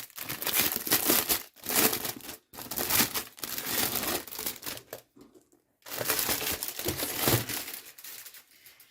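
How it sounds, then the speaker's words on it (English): A plastic bag for a 2024 planner being worked open, giving loud, close crinkling and rustling in long bursts separated by short silent pauses. "I have completely forgotten how to open plastic bags."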